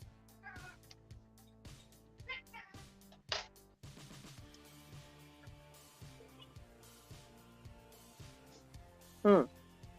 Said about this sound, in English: You hear my cat meowing?